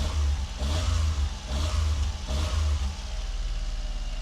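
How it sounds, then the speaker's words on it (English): The small engine of a 1990 Honda Acty 4x4 Street revs up repeatedly in three strong bursts, each rising then falling back, loud and close with no one speaking. "give it some revs"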